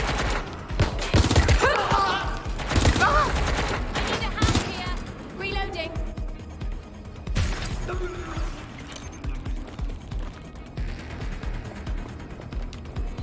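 Bursts of gunfire in Watch Dogs Legion, loud rapid volleys at first that thin into scattered shots and impacts, with game voices and other sounds around them.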